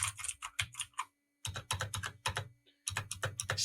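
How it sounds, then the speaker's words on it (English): A clicky gaming keyboard is typed on in quick bursts of sharp key clicks. Short pauses separate the runs, and the spacebar presses land with a hollow click, close and crisp, with no voice. "you can hear the click on the spacebar, so that's better than the Red Dragon"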